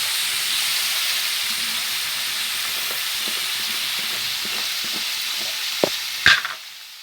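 Brinjal pieces being stirred in a pan as they fry with salt, a steady soft sizzle and hiss with light scraping of the spoon, ending in a louder clatter near the close.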